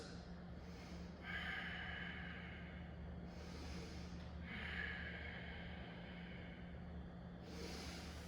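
Deep, audible breaths taken while holding a yoga forward fold in a long-hold yin class. Four long, airy inhales and exhales rise and fall at a steady, unhurried pace over a constant low hum, with no talking.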